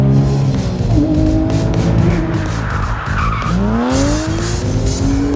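A Porsche 911 GT3 RS, lightened and fitted with a mechanically locking rear differential, drives hard with loud tire squeal and a high-revving engine rising and falling through gear changes, close and continuous.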